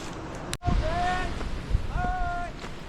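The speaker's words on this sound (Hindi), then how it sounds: "बहुत बड़ा नाला आया" A large mountain stream rushing along the Pindari glacier trek in the Himalayas, a loud, steady roar of water with wind buffeting the microphone and a few brief voice-like tones over it.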